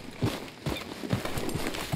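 Horse hooves clip-clopping in Red Dead Redemption 2, a brisk irregular string of close, sharp hoof strikes over a muffled outdoor background, with no talk.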